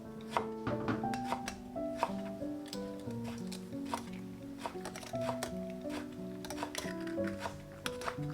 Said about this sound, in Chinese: 之后切碎